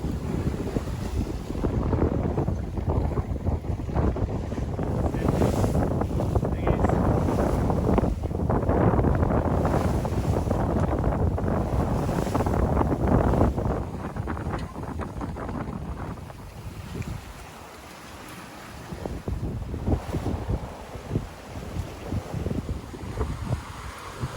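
A sailboat tacks out of a narrow channel into choppy water while sailing solo offshore, with steady wind roaring across the microphone and water rushing and slapping against the hull throughout.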